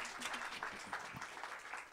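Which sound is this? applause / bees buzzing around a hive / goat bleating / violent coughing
applause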